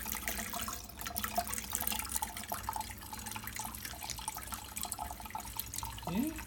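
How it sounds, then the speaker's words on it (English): Water runs steadily from a tap for a pet bird named Tillie's bath, a continuous splashing, trickling stream close by, with a brief chirp near the end. "It's water, Tillie. You can't chew it."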